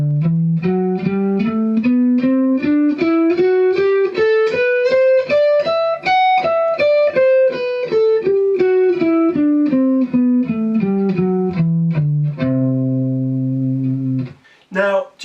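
A clean electric guitar plays a Lydian mode scale note by note, climbing steadily and then descending, ending on a ringing chord and a couple of brief plucks.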